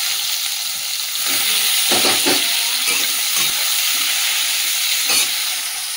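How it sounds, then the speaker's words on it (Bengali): Eggplant fries in hot oil in a kadai, a loud, continuous close sizzle with a few bursts of crackling and spatula stirring, and no talk. "এই যে এদিকে তেলটা গরম হয়ে গেছে, মেথি শাক ভাজবো, তার জন্য বেগুনটা আগে ভেজে নিচ্ছি।"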